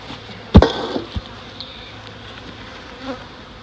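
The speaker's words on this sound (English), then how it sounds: "Plenty of bees in it." Honey bees in a queenless hive hum steadily in a low drone, close by, broken by a sharp knock and a few light clunks near the start.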